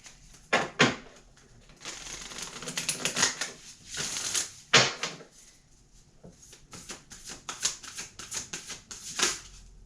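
Tarot cards are shuffled by hand in repeated bursts of crisp riffling and flapping, close by, with short quiet pauses between.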